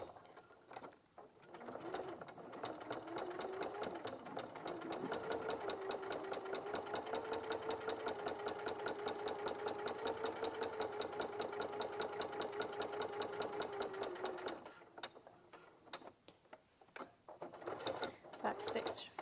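A sewing machine top stitches quilting cotton at a 3.5 stitch length, a fast, even mechanical whirring chatter running close and steady for most of the stretch, with a voice speaking softly around it.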